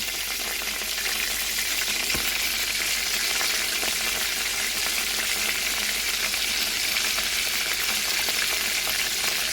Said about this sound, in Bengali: চিংড়ি মাছ ভাজা তেলের মধ্যে 1/2 টিস্পুন পাঁচফোড়ন দিয়ে দেবো।